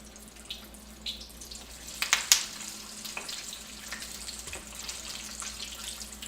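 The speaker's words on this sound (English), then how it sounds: "When you hear that sizzle, you know you're cooking with fire." Steady low sizzling of chicken wings frying in hot oil, with a few sharp crackles and pops scattered throughout, fairly quiet and with no talking.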